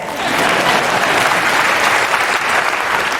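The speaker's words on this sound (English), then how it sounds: "Oh yeah, you can clap that." A large audience at a TED talk claps in a dense, sustained burst of applause, loud and full, swelling slightly and holding steady without speech over it.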